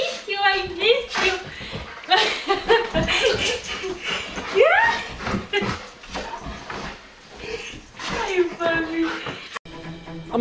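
A puppy whines and whimpers in high, wavering cries, with excited human voices talking and laughing over it throughout.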